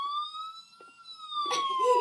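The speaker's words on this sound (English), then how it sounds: "An ambulance, and that was what was making the" An ambulance siren wails in a long, smooth rising-and-falling tone, close and clear, joined by a brief burst of noise near the end.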